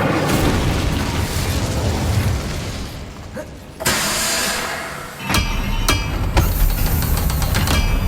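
A fiery Incendiary spell blast in Hogwarts Legacy combat, a dense roaring burst with booming, crackling bursts and sharp pops in quick succession, loud and close against a busy battle backdrop.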